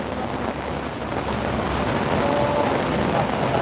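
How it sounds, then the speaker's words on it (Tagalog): Artificial rain shower spraying at a beach park on Manila Bay's dolomite beach, a steady broadband hiss of falling water that holds constant and swells slightly louder partway through, with no talk. "Yan na, paulan na. Ayan, nagpaulan na sila."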